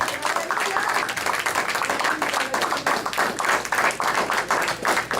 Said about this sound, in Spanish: Dale un aplauso fuerte